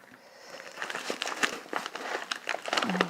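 Packaging crinkles and crackles as a double-packed mail parcel of nail polish is unpacked, close and irregular rustling with a few sharper crackles.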